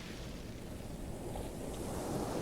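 Ocean waves surge and wash steadily around a swimmer in the sea, a continuous full rushing swell that builds slightly louder toward the end, with no voices.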